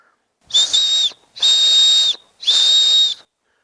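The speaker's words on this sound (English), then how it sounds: "I got a whistle on my backpack." A shrill backpack whistle is blown three times in a row, each blast about half a second long, loud and close.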